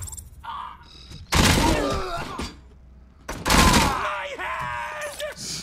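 Video game gunfire in RoboCop: two loud bursts of rapid shots, each about a second long, separated by quieter moments, with voices and groans around them and someone talking.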